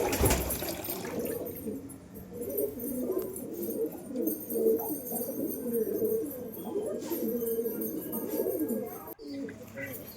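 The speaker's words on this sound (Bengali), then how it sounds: "তো আমার সমস্ত পায়রা কিন্তু ভিতরে চলে এসেছে" Pigeons coo continuously in a loft, a dense overlapping chorus of low throaty calls close by, with faint rustling and no clear speech, ending in a brief dip near the close.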